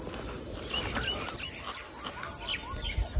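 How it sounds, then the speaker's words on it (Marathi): A flock of mynas chirps at evening, a dense chatter of overlapping calls set against a steady, high insect drone. The birds sit at a middle distance and call without a break throughout. "पक्ष्यांचा किलबिलाट बघा"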